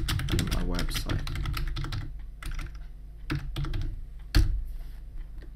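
Fast typing on a computer keyboard while entering page text in WordPress: dense runs of clicking keystrokes, close and fairly loud, pausing briefly, then resuming in short bursts ending with a sharper key press.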